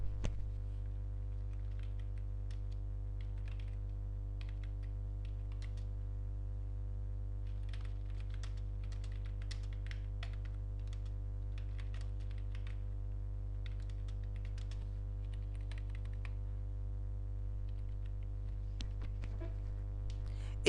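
Someone types a narration entry on a computer keyboard while using Tally accounting software, producing soft, irregular clusters of keystrokes over a steady low electrical hum, with no talking.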